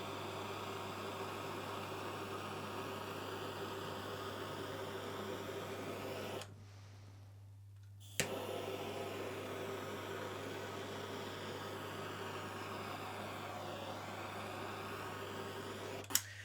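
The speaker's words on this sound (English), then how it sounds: "let's find out if this lightsaber can cut shadow foam" A Hacksmith gas-powered lightsaber cuts through shadow foam with a steady, even roaring hiss over a low hum. It cuts out for about two seconds midway, then resumes unchanged.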